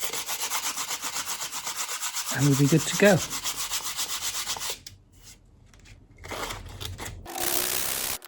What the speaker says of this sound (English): what I'm doing is sanding away the protruding part of the mother of pearl